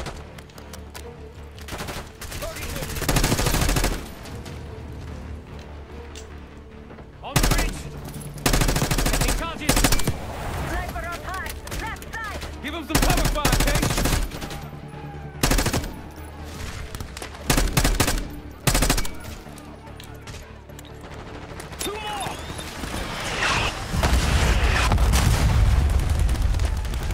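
Sustained machine-gun cover fire in Call of Duty Black Ops 6, loud rapid bursts mixed with booming gunfire and explosions over a droning game soundtrack, with brief pauses between volleys.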